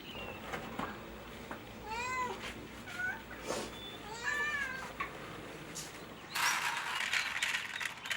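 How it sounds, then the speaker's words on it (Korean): Stray cats meow in a series of rising and falling calls, several distinct meows close by, followed by a sudden burst of louder rustling noise near the end. "이곳을 집처럼 드나드는 길고양이들이 어느새 15마리로 불어났습니다"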